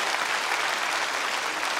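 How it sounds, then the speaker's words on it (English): Steady, dense applause fills the full stretch at even loudness, with no voices standing out, as a congregation gives a round of applause for the men at the Ramsey unit during a worship service. "let's give the men at the Ramsey unit the most gracious round of applause"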